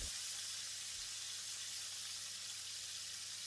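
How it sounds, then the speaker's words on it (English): Squid rings sizzling in a hot pan for stir-fried tom yum rice noodles, an even, fairly quiet hiss that holds steady with no talk. "add the squid rings and let them cook for about 10 seconds on one side"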